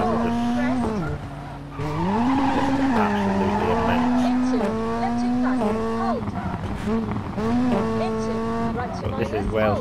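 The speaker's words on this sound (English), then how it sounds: "I love the exhaust notes of rally cars." Ford Fiesta ST rally car in the WRC 5 racing game on a Wales stage, its loud engine revving and shifting through gears with rising and falling exhaust notes throughout, plus tyre skids.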